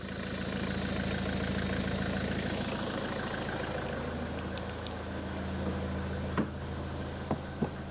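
A 2010 Ford S-Max 2.0 TDCi diesel engine idles steadily after a fuel filter change, a close, continuous low rumble with a few sharp knocks near the end.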